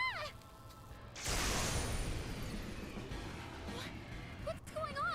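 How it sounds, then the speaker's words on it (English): In the Shin Megami Tensei IV Apocalypse game, a massive bird bursts through a window with a sudden loud crash and roaring rush. Warbling electronic tones come before and after, and a harsh screech follows. "A massive bird broke through the window."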